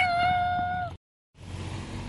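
A house cat lets out one clear, drawn-out meow, loud and close, followed by a brief silence and quiet room noise.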